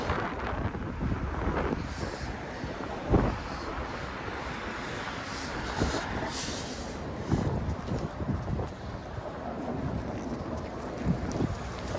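Gusty wind buffets the microphone on Parliament Street in downtown Toronto, a constant rumbling roar with occasional stronger bursts.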